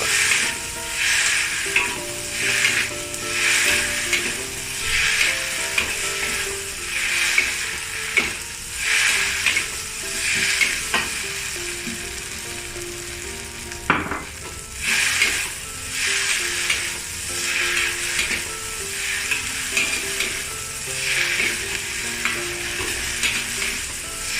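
Beef and scallion stir-fried in a wok over high heat, with a steady loud sizzle and the repeated scrape and clatter of stirring running throughout, with no talk.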